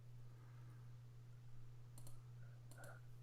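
Faint, sparse clicks, a couple of short bursts over a steady low hum, quiet and somewhat distant with no voices.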